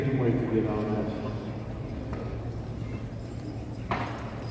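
A pulling horse walks at the Kentucky State Fair in Louisville, its hooves clip-clopping in a steady rhythm close by while someone talks over it throughout.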